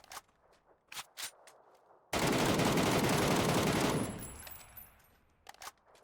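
Rapid gunfire from a shooter video game bursts out in one loud sustained string lasting about two seconds, framed by sharp isolated clicks and taps before and after in an otherwise quiet scene.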